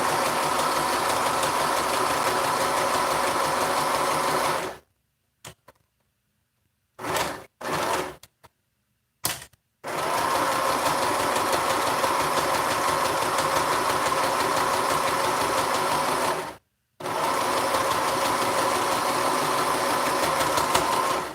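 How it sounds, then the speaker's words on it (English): Sewing machine top stitching the filter layer of a fabric face mask, a steady close mechanical whir running in long bursts broken by several short pauses and stops. "So we're top stitching the filter."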